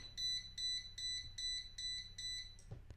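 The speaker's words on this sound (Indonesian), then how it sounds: "ketika timernya habis, buzzer akan menyalakan alarm dan juga dibersamai dengan relay yang aktif" An Arduino timer's buzzer sounds its time-up alarm, a rapid series of about seven shrill, evenly spaced beeps, clear and close, ending abruptly with a small click.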